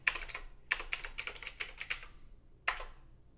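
Keys tapped on a computer keyboard while entering a PowerShell command, quick bursts of close, crisp clicks in two runs separated by a pause, then a single final keystroke like Enter.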